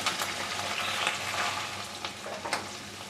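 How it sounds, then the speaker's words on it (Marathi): Onion fries toward golden in a pan for dal, a soft, steady close sizzle with a few faint stirring clicks and no speech. "हा आता कांदा आहे ना तो सोनेरी रंगावर परतून घ्यायचा आहे"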